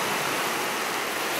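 Baltic Sea surf washes steadily onto the shore, a close, loud, continuous broadband hiss of breaking water with no pauses and no voices.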